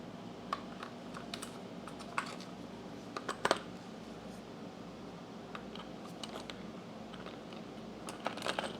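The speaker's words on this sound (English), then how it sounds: "Thread our screws in." Small clicks and ticks from screws being threaded into a part of a trash-picked Ryobi pressure washer, scattered irregularly over a steady low hum, close and fairly quiet.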